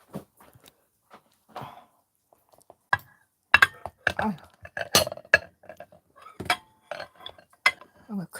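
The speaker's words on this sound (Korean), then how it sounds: "이제 식탁으로 좀 옮겨볼게요. 접시가 너무 커가지고 무겁네." A large, heavy serving plate is carried to a home dining table, with scattered clinks of dishes and cutlery, light knocks and a quiet voice or two in between.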